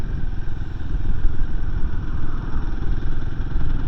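A Royal Enfield Himalayan 450 motorcycle rides steadily in gear at around 30 mph, its engine a loud, continuous low rumble mixed with road and wind noise, with no one talking.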